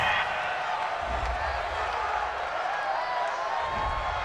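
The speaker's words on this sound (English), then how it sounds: "This home crowd, they're happy with that call." A home stadium crowd roars steadily in a Madden 20 simulation of Saints at Browns, a broad sustained cheer with faint clapping and talk mixed in.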